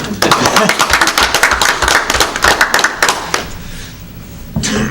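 Applause at a town council meeting: a crowd claps briskly for about three seconds, fading out, then a voice briefly starts up at the end.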